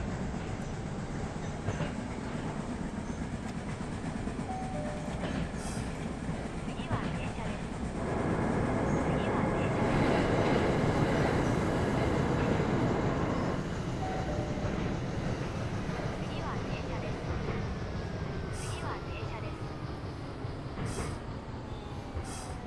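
Japanese train running in a train driving video game, a steady low rolling rumble and wheel noise with a louder stretch midway, plus faint high squeals and tones over the continuous hum.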